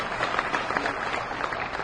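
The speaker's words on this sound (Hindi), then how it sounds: "एक बार जोरदार तालियां मैं चाहती हूँ" Audience applause at a college event, a dense steady wash of clapping for under two seconds, moderately loud with no voices on top.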